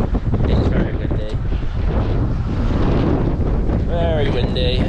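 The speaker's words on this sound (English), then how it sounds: "It is very windy, very rainy, and just overall not very nice." Strong storm wind with rain roars and buffets the microphone continuously, with muffled sounds and a brief higher tonal whine near the end.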